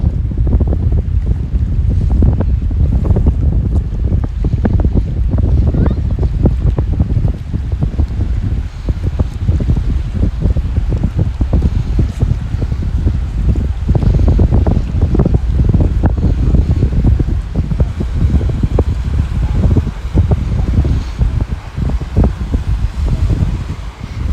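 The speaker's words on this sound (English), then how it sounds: "Pretty windy as well." Strong wind at Marie Curtis Park in Mississauga buffets the microphone continuously, a loud low rumble with gusty crackling throughout and no voices.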